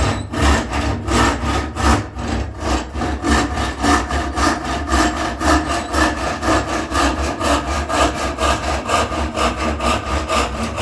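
Steady hand sawing through wood for a spice rack, with the workpiece held low in a vise; continuous rhythmic back-and-forth strokes, close and fairly loud, without talk.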